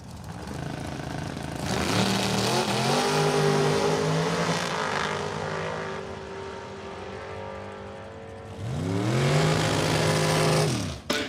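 A Chevy Camaro and a dragster launching side by side at Numidia Dragway, loud engines roaring and rising through gear changes, fading into the distance, then a second loud burst of revving engines.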